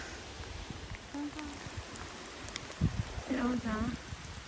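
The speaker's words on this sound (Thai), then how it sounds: "โอ้ยฝนตกพี่น้องเลย" Rain falls steadily as a soft, constant hiss outdoors during mushroom picking, while a person speaks briefly over it.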